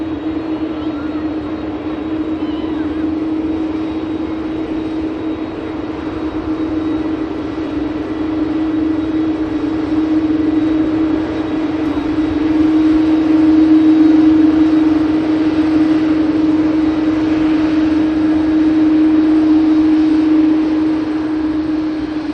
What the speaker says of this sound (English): It's Aer Lingus A330 to kick us off, followed closely by the Singapore A350.